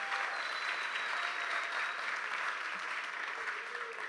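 Steady applause from a retreat audience honoring clergy and servants, a continuous even wash of many hands clapping, fairly close and sustained, with no talking.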